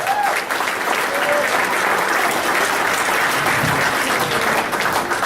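Club audience at a holiday comedy showcase applauding a stand-up comedian, a thick, even wash of clapping from a large crowd that holds steady throughout, with faint voices under it.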